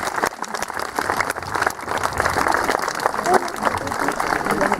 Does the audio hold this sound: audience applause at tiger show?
yes